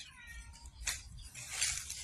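A cat meows faintly in an outdoor garden, two short cries rising over low background rumble, somewhat distant.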